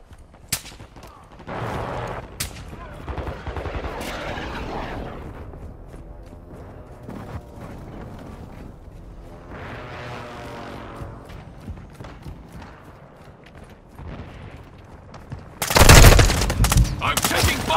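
Gunfire in the Call of Duty Modern Warfare 2 video game: scattered loud shots and bursts early on, a quieter stretch with voices talking, then a dense, loud fusillade near the end.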